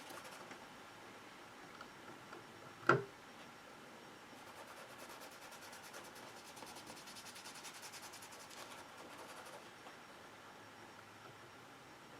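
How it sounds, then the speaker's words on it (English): A scratchy sponge rubs steadily against a leather jacket to weather it, giving a soft, continuous close-up scraping with one sharp knock partway through and no talking. "You can be a lot more precise with weathering with the scratchy sponge than you do with the brush."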